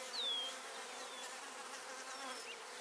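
Honey bees hum softly on a hive frame, a faint, steady buzz with one thin whine passing near the start.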